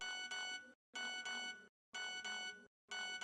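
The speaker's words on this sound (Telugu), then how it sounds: "ఫోన్కి ఏదో నోటిఫికేషన్ వచ్చినట్టుంది" A phone chimes with a bright, repeating electronic tone, four evenly spaced bursts with short silences between them, fairly quiet and alone.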